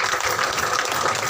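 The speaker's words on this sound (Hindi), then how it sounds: "जोड़ो ताली सम्मान करो।" An audience at a community gathering claps in a brief, dense burst of applause, loud and even throughout.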